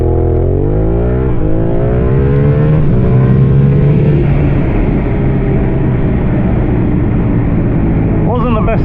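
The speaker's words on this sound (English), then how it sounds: "see how many G's we can pull when we doing like a racing start or something" A Yamaha R7 motorcycle launches from a racing start, its engine revving hard with pitch climbing steeply, dropping at a gear change, then rising again into a loud, sustained roar, with wind noise close to the rider.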